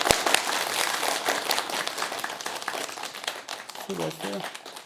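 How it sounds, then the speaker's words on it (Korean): Applause from an audience at an outdoor Buddhist storytelling and chant performance, a dense steady crowd clapping that runs throughout, with a short sung or spoken vocal tone near the end. "큰 박수 부탁드리겠습니다."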